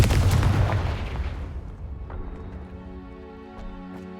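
The Confringo fire spell in Hogwarts Legacy lands as one heavy booming blast up close, then fades through a long rumbling decay with faint ringing tones and a couple of small pops.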